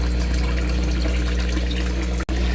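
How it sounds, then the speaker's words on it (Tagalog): Water gushes and pours steadily while the water in a container of tubifex worms is changed, a constant loud rushing flow with a brief dropout near the end. "so ito na yung tubig natin. Pinapalitan ko na."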